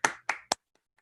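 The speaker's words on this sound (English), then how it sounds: "let's give it up for them. A round of applause." Three sharp, close hand claps come in quick succession, each one short and distinct, followed by two faint soft taps. They are offered as a round of applause for high school students at an online machine learning conference.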